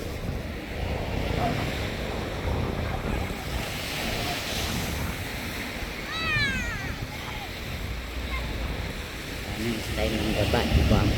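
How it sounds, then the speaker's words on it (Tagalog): Rough sea waves break and wash continuously on the sand at Gavà beach near Barcelona, a steady loud surf roar with wind buffeting the microphone and a brief bird-like chirp midway. "maalon ang dagat, maalon"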